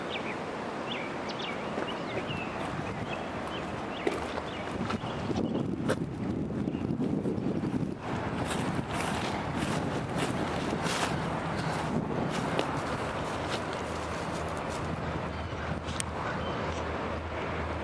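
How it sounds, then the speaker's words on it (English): Steady wind rushes and buffets outdoors, roaring against the microphone with gusts that swell and ease throughout. "See, it's windy out here."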